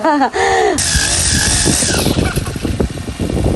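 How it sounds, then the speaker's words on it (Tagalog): A small two-stroke grass cutter engine is pull-started outdoors, sputtering to life and settling into a loud, close, buzzing run, with people talking briefly beforehand. "Pinipisting po ni boss yung kanyang grass cutter. Kung aandar na."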